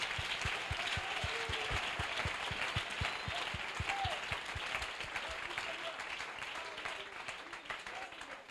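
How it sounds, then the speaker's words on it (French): A church congregation claps and cheers in dense, sustained applause that stays loud and even throughout, with a steady low rhythmic thump running beneath the crowd noise. "Est-ce qu'on peut acclamer le Seigneur Jésus?"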